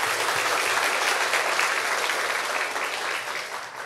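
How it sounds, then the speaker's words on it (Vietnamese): Audience applause for an acoustic church music group at a live hymn session, a dense steady patter of many hands that holds loud throughout and eases slightly toward the end, with no voices over it. "tôi xin mọi người cùng dành cho nhóm một tràng pháo tay thật nồng nhiệt"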